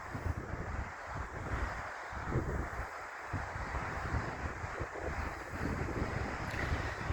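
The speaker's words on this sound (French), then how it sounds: "Il y a beaucoup de vent." Strong wind buffets the microphone at the seaside at sunset, a steady roaring gust noise with rumbling low bursts and faint surf beneath, continuous throughout with no voices.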